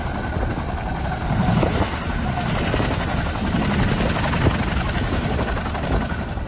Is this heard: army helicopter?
yes